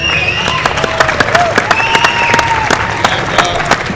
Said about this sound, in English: give a round of applause for him